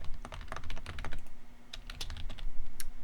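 Rapid clattering keystrokes on a computer keyboard, an irregular burst of sharp clicks close to the microphone with no voices over them, set against a faint steady hum.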